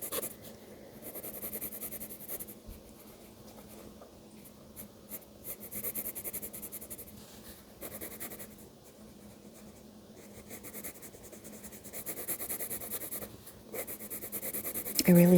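A colored pencil scratches across paper in short, repeated strokes while drawing a turkey, near and fairly soft, with bursts of steady scribbling and brief pauses between them.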